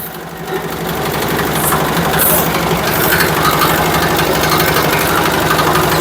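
A river launch ferry engine on the Buriganga in Dhaka chugs steadily with a rapid, even mechanical rhythm, loud and close, under a constant hum with faint brief sounds above.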